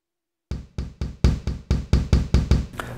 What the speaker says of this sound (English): Just because it's bouncing around, because it's not secured down, you're getting some of those double hits.